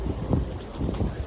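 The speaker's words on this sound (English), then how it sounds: "it's so windy here" Wind blows across an outdoor garden plot, a low rumbling gust pressing against the microphone in short swells with no one speaking.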